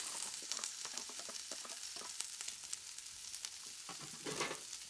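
Red onion dropped into a hot pan for a turkey stew, giving a soft, fairly faint crackling sizzle with scattered pops and stirring scrapes throughout.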